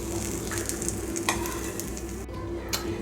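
Pearl spot fish fry in a pan of hot oil, a dense, close crackling sizzle that holds steady throughout with faint stirring noises and no voices.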